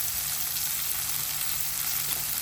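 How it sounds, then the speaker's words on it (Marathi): Bombil (Bombay duck) and pavta beans sauté in hot oil in a pan, giving a steady, close sizzle and frying hiss that holds even throughout, with no talking. "आता आपल्याला 3 ते 4 मिनटं परतून घ्यायचे पावट्यासोबत"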